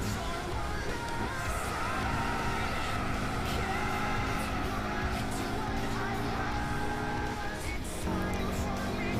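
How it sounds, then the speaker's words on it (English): Lancia Delta 4WD engine droning steadily in the racing game Gran Turismo 6, a continuous loud hum with shifting harmonic tones, mixed with other cars and background noise throughout. "Look what I'm driving right now, a Delta."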